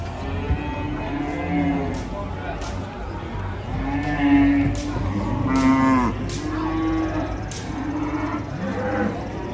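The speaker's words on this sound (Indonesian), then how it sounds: "Sapi kurban ngamuk." An agitated sacrificial cow moos repeatedly, loud drawn-out bellows over a noisy outdoor background with people murmuring nearby.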